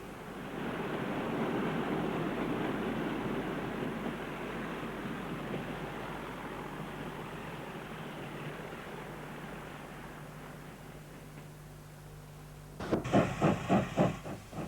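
Heavy train climbing a steep gradient behind a 9F steam locomotive with a Class 37 diesel banking, a broad continuous rumble and hiss that swells then eases, followed near the end by a few loud rhythmic exhaust beats.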